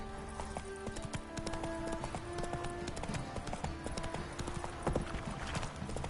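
Roach the horse gallops in The Witcher video game, a fast steady clip-clop of hooves running throughout, close and continuous under game music, with a faint voice briefly audible.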